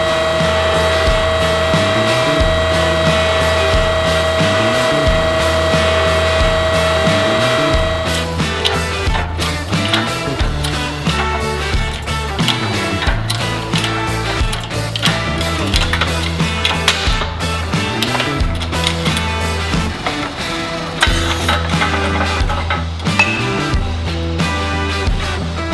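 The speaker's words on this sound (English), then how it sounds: "I have to resort to cutting the race and then breaking it with a chisel" A power cutting tool grinds steadily through a stuck wheel bearing race on a steering knuckle from a Mazda RX7, a loud continuous whine that shifts into rougher, chattering cutting partway through.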